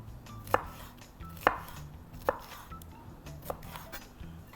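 A knife chops vegetables on a cutting board for a chicken and vegetable dish: four or five sharp, separate knocks at uneven intervals, close and clear over a low background hum, with no talking.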